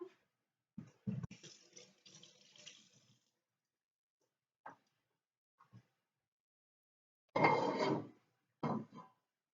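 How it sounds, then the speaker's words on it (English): Faint running tap water as hands are rinsed in a home kitchen, heard in a few brief, quiet bursts of splashing separated by near silence and small clinks. "I'm gonna rinse my hands off."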